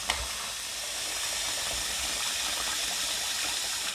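Tap water gushes steadily into a soup pot for lentil soup, a continuous bright hiss with a small knock at the start and no voices.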